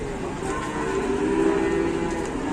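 A large cow lows with a long, sustained moo over steady background noise, heard fairly close amid a busy cattle setting.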